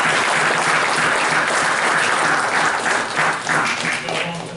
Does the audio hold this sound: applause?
yes